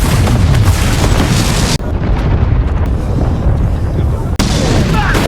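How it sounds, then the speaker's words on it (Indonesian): Huge explosion in a heist film about a daylight robbery of London's biggest bank, a loud roaring blast with heavy rumble that cuts off abruptly, followed by lower crashing debris and a second sharp burst near the end. "Beberapa detik kemudian, ledakan dahsyat pun akhirnya terjadi."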